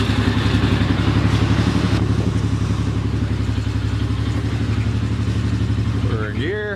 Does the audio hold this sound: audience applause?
no